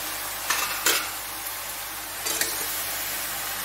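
Spoon stirring bottle gourd in a hot pan with ground cumin and chilli powder, a steady low sizzle throughout with a few brief scraping strokes, close and moderately loud, no voices.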